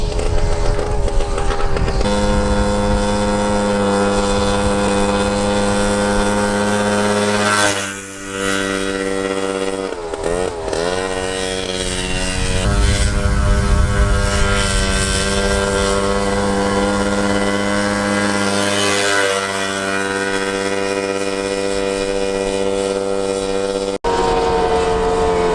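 A 1979 Odyssey FL250 two-stroke off-road go-kart engine runs hard and close by, its buzzing drone holding loud and steady with brief dips and revving swells throughout, and no voices over it.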